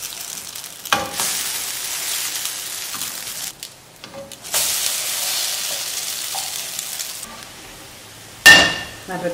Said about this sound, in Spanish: En una cacerola aparte ponemos un poco de aceite y empezamos a hacer nuestras tortitas.